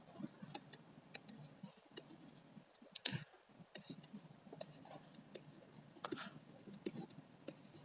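A pen or marker writing during a vocabulary lesson, giving faint scratchy strokes and small clicks and taps in an irregular rhythm, with a quiet voice murmuring now and then.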